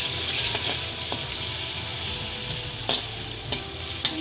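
Onions and chili paste frying in oil with a steady, close sizzle, broken by a few sharp stirring scrapes near the end.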